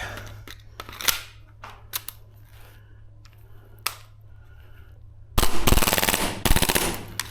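A Krytac Maxim 9 airsoft gun fires on a Marui magazine, with sparse clicks and handling noises first, then a loud sustained burst of rapid automatic shots near the end.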